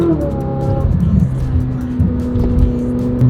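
A Ferrari 458 Speciale engine runs steadily close by, a loud continuous mechanical drone with shifting tones and no clear start.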